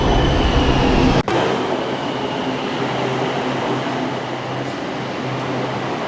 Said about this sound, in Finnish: Juna tulee tuolta